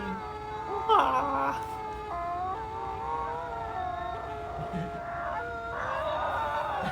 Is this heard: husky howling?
yes